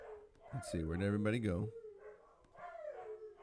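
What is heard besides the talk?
dogs barking and howling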